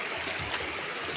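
Steady rushing of a stream flowing nearby, a continuous broadband wash of water with no other sounds.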